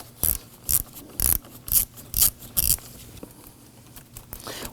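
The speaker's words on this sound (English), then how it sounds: "Using a 10mm socket in your 1/4" ratchet, loosen the bolt on the ground terminal." A 1/4 inch ratchet with a 10mm socket works the ground terminal bolt on a 2018-2024 Toyota Camry battery, giving six evenly spaced bursts of close, crisp ratcheting clicks before quieter faint handling.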